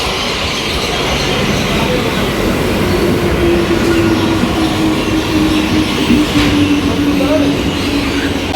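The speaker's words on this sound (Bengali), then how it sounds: "ট্রেন ঢুকে পড়েছে" A train pulls into a station with a loud, continuous rumble and a long, thin wheel squeal rising over it, while people murmur in the background.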